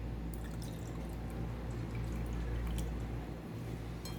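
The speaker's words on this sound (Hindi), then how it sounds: "अब इसमें ठंडा पानी ऐड करेंगे।" Cold water poured into a glass holding ice cubes and almond sharbat, a continuous close splashing trickle with a low gurgling fill and faint clinks, no voices.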